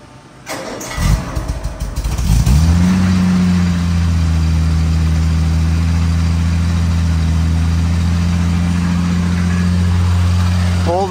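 A 1962 Jaguar XKE engine cranks with a few uneven turns, catches and fires, then settles into a loud, steady, throaty idle that holds close and unbroken.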